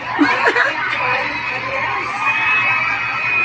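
A crowd shouts, squeals and laughs in an excited burst that stays loud and continuous throughout.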